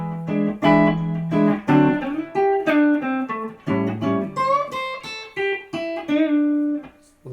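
Blues guitar plays an eighth-note turnaround lick that starts early, with a quick run of single notes and bent tones settling onto a closing chord, clean and close.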